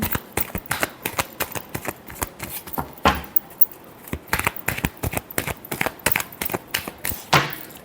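Tarot cards shuffled by hand in a quick, steady run of crisp riffling slaps and flutters, close up and fairly loud, with a brief pause partway through.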